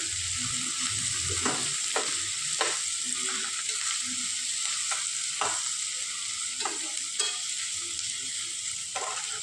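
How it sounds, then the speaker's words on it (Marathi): Sliced onion and curry leaves frying in oil for a south-style crab masala, a constant bright sizzle with periodic spatula scrapes and taps at an unhurried rhythm, close and without voices. "त्यात उभा चिरलेला कांदा घालते मी. लगेचच कढीपत्ता घालते."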